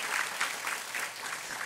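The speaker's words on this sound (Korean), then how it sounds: "우리 모두 할수록 함께 박수로 격려하도록 하겠습니다" A church congregation gives a short round of applause, a fairly close, continuous clapping with slight pulses, brief and without voices.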